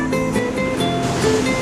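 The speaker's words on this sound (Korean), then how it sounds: "정말 파도가 거칠게 부네요" Rough sea waves crash along the Uljin coast in strong wind, heard from a hilltop lookout. A loud, continuous roar of surf and gusting wind fills the whole stretch with no talking.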